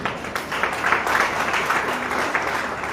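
A congregation claps hands together during a Christian praise service, a dense, steady wash of many hands that carries on without a break for the whole stretch.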